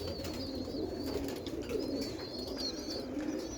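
Young roller pigeon cock birds, under a year old, coo softly in a loft, a continuous low burbling chorus from several birds with faint higher chirps over it and no talking.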